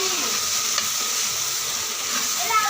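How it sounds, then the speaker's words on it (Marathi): Kashmiri chilli and spices sauté in oil for a vegetable dish, giving a continuous, even sizzle that stays close and fairly loud throughout, with only a faint clink near the start and no speech. "तेलामध्ये. तेल पूर्ण सुटेपर्यंत ते परतून घेतलं आहे मी."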